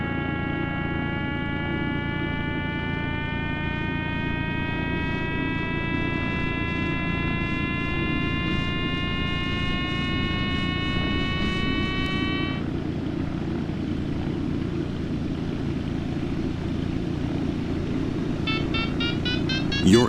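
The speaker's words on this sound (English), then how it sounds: "That beeping you're hearing is the variometer." A glider's variometer in Microsoft Flight Simulator X beeps in a steady rising tone over a constant tow-plane propeller drone, stops partway through, then starts again briefly at the end.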